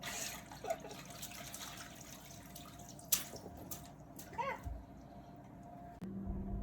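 Pickle solution for tanning hides fizzes in a container, making a soft, constant crackle with scattered drips and small splashes, plus a brief sharp knock partway through and a low hum at the end.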